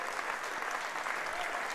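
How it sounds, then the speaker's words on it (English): Loud, sustained applause from Crusaders football supporters in the stadium, a dense steady roar of clapping with no gaps. "it's a very loud round of applause here from the Crusader supporters"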